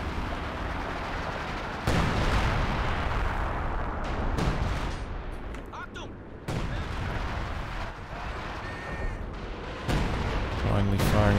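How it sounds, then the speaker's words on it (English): Rocket artillery volleys in Company of Heroes 2, dense dull booms and explosions rolling one after another with battlefield gunfire under steady commentary. "volley of rockets"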